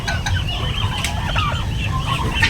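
Turkey kept inside a brooder, making repeated soft clucking and chirping calls over a low steady background hum, close and continuous.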